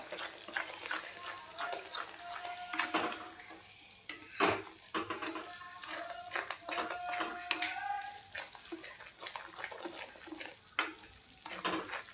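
Gram flour mohan roasting in plenty of oil for Marathwada-style dal bati, stirred with a metal spoon that scrapes and clinks irregularly against the pan over a soft, continuous sizzle, close and moderately loud.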